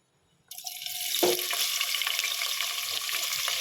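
Thinly sliced long onions drop into hot oil with a sudden burst of loud sizzling that starts abruptly after a near-silent moment and continues as a dense, even crackle, with a brief clink early on.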